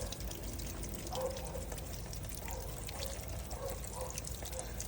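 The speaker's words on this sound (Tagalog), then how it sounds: "may lumalabas siyang tubig." Water trickles and drips from the door drain holes of a Suzuki S-Presso as the door is opened, a faint, steady dribble under a constant background hiss with no speech.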